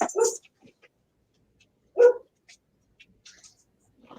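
A dog lets out two sharp barks about two seconds apart, close and loud in a quiet room, followed by a few soft yips and small sounds.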